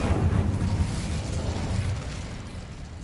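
The Incendio fire spell in Hogwarts Legacy releases a deep, rumbling burst of flame that starts loud and slowly fades into a low roar.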